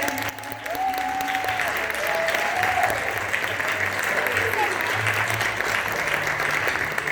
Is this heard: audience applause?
yes